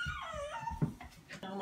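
A dog grumbles and whines while gripping a toy from an old Rudolph movie, a low, wavering, close vocalization with a few sharper yips near the end.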